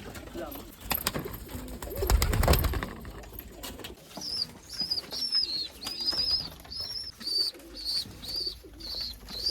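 Pigeons, including a fantail, coo repeatedly in soft, rhythmic bursts, close by. Wings flap and there are a few loud knocks early on.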